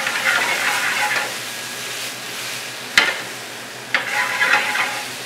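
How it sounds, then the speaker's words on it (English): Onion and citrus sauté in a pan, a steady close sizzle with a sharp knock of the utensil around the midpoint and another stirring scrape shortly after; no voices. "We're going to take our citrus product and we're also going to add that. Saute that down"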